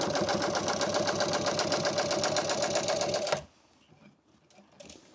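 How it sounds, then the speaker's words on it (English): Sewing machine reverse-sewing motorcycle seat upholstery through the back side of the scrim, a rapid, steady mechanical chatter for about three and a half seconds that stops abruptly and leaves faint handling noise. "I'm doing a reverse sew from the back side of the scrim this time instead of the top side."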